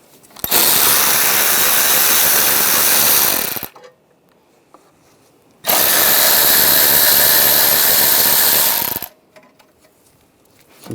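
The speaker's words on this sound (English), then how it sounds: "Using a 10mm socket, there's 3 10mm bolts." A power tool fitted with a 10mm socket spins out bolts in two loud, sustained whirring bursts of about three seconds each, close up, with quiet gaps between them and no talk.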